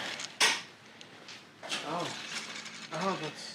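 A hand spinner wrench works loose the primary cover bolts on a 2018-or-later Harley-Davidson Fat Bob Softail, giving short creaking, rattling mechanical bursts close by, with brief vocal sounds mixed in.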